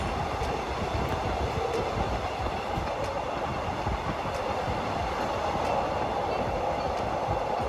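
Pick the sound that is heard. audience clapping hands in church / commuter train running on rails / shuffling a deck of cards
commuter train running on rails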